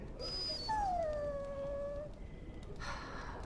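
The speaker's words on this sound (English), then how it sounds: "Bloody dog." A dog in Dragon Age Origins whimpers and whines in a short, high, falling cry, fairly faint over a low background rumble.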